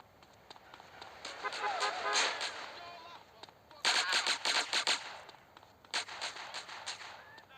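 Pistol gunfire in GTA San Andreas: bursts of sharp shots in quick clusters, loud and close, with several groups of rapid reports spread across the scene over game background noise.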